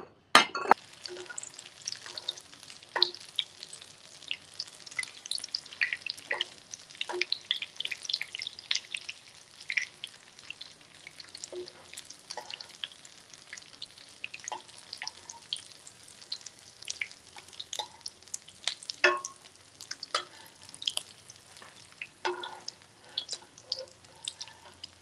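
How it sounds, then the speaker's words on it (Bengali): Fish cutlets of boiled filling frying in a pan of oil, a steady crackling sizzle with frequent pops and spits throughout, close and continuous with no talk. "আরো দুটো কাটলেট আছে, আমি তৈরি করে ভেজে নিচ্ছি।"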